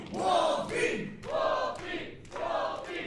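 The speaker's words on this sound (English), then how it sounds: "Crowd showing their appreciation for his efforts." A small wrestling crowd cheers and claps in three rising bursts of shouts and applause, fairly close and lively, each swell fading briefly before the next.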